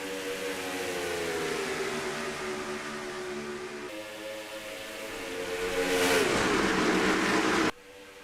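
A pack of stock race cars in a sim racing league event at Homestead roars up through the gears from the start, engine tones sweeping upward in several loud, overlapping revving pulls.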